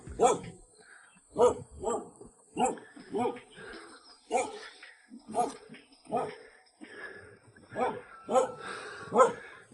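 A chained dog at a remote cliffside farmhouse in rural China barks in a repeated series of sharp, close, loud bursts with short gaps between them, and there is faint talk in the background.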